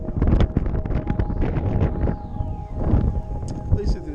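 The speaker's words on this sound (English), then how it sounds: "it's fucking so windy. It just blows like a mother." Strong wind buffets the microphone outdoors in the Blue Mountains, a steady roaring gust that swells and eases throughout while a person talks over it.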